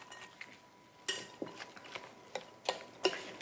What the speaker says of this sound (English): And then stir all of that together.